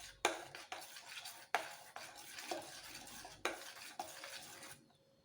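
Strawberry milkshake being mixed with a spoon in a vessel, a series of close scraping, clinking stirs in uneven strokes, each starting with a sharp knock and trailing off, ending in quiet.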